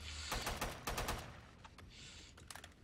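Single-fire gunshots from the Scar rifle in the game Killing Floor 2, several sharp reports in quick succession and then a few more spaced shots, close and fairly loud over a steady game background.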